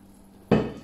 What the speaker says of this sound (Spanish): Caldito que nos quedó, el agua que nos quedó, para adentro.